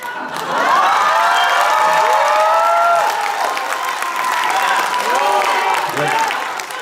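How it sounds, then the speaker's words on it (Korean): A crowd at a Korean political party rally claps and cheers loudly, a sustained dense roar of applause with shouting voices on top, close and continuous for several seconds. "4번 박수 칠 준비하십시오."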